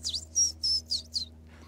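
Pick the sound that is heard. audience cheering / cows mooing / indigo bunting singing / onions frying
indigo bunting singing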